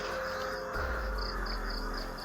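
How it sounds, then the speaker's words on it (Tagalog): Many crows cawing, repeated short harsh calls coming in a loose series over a heavy low rumble of wind or handling noise, with no talking. "Ito, sobrang dami ng uwak tol."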